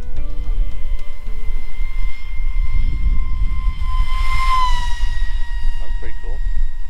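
A small RC flying wing built from a pizza box, with a 3-inch 3052 propeller, whines steadily at about half throttle as it passes between trees, its pitch sliding as it flies by, over continuous outdoor rumble.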